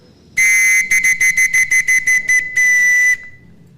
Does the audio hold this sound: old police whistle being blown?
yes